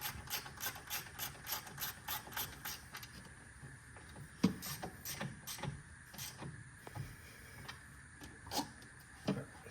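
Ratchet wrench clicking rapidly as it drives a 10mm bolt back into an LT6 engine intake manifold area, a steady run of sharp close ticks with brief pauses between strokes.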